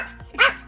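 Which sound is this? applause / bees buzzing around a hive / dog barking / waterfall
dog barking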